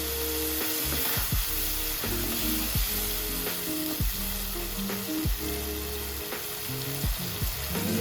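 Chili powder, shahi garam masala and onion-ginger paste fry in hot oil with a loud continuous sizzle, joined now and then by stirring scrapes and a low background hum.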